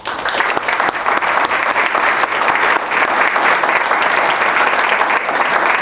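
Audience at a college assembly breaking into sustained applause, loud and dense with many hands clapping steadily for several seconds without a pause.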